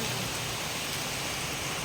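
Steady, heavy rain hisses continuously, a dense wash of falling water with no pauses.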